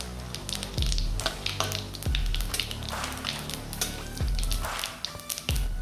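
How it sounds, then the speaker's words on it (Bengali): Four dried red chillies, a teaspoon of cumin seeds and a bay leaf hit hot oil in a pan, giving a loud, steady crackling sizzle with brief sharp pops and low thumps throughout, no voices. "তেলটা ভালোভাবে গরম হয়ে গেছে। এবার আমি এতে ফোড়নে দিয়ে দিচ্ছি 4টে শুকনো লঙ্কা, 1 টিস্পুন সাদা জিরে"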